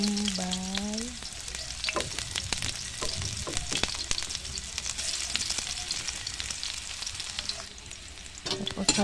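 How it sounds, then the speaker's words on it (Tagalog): Chopped onion dropped into hot cooking oil, a loud continuous sizzle and crackle with stirring clicks from a spatula, close up with no talking. "Pag mainit na ang mantika, ilagay na natin ang bombay."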